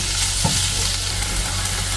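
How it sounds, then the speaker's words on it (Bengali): Bottle gourd leaves fry in a pan, giving a steady bright sizzle with a soft stir of a spatula partway through, close and continuous. "গাছের লাউ শাক, এটার এখন একটা ভাজা দিব।"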